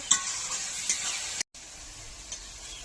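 Garlic frying in a pan during Indian village cooking, a steady bright sizzle with a few stirring clinks, briefly cut off before it resumes at a slightly softer level.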